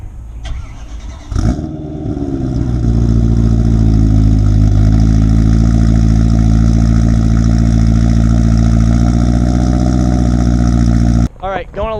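A 2009 BMW M3 engine starts and settles into a loud, throaty rumble from the exhaust, holding steady with a slight rev before cutting off.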